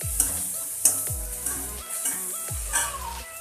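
Masala for aloo chaat frying in a pan with chopped spring onion, with a steady sizzle broken by several sharp spoon scrapes and clanks at an uneven stirring rhythm, close and moderately loud.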